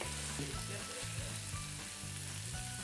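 Sausage, onions, peppers and garlic cooking in a pan for Italian sausage pasta, a dense, continuous sizzle with soft bubbling pops, steady and close though fairly quiet.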